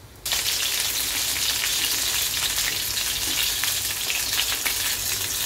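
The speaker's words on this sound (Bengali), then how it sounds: "বাকিগুলো আমি এইভাবে ভেজে নিচ্ছি।" Stuffed ash gourd leaf fritters, filled with mustard paste, fry in hot oil with a dense, steady sizzle that starts abruptly and continues loud and close with no speech.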